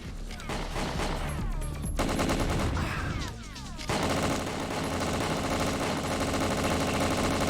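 Dense, sustained enemy gunfire keeps going without a break in the video game Covert Operations, mixed with a steady engine-like drone and a busy game soundtrack. The clip briefly dips quieter near the middle before the barrage resumes.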